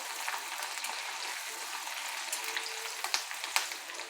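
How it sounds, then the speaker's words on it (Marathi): Green chilies and garlic sauté in hot oil in a pan, giving a soft, steady crackling sizzle with a few sharper pops, close and fairly quiet. "आता मिरची घालू आपण मिरचीसुद्धा छान तेलामध्ये परतून घ्यायची आहे"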